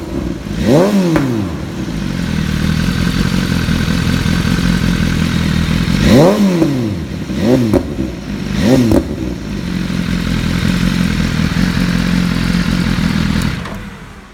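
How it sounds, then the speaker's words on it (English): BMW S1000RR motorcycle with an HP titanium exhaust revving hard, several sharp throttle blips rising and falling over a loud steady idle, close to the microphone with no talking. "I just finished the programming of a bike for this exhaust system, installed the option, and just listen to this."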